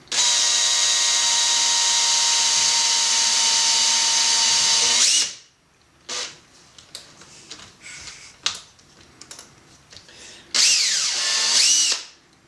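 A power drill boring into a wooden file handle whines loudly for about five seconds, stops, then after some scattered clicks and handling noise runs again in a shorter burst.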